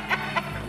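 A rooster gives two short, quick clucks close by, brief and moderately loud against a quiet background.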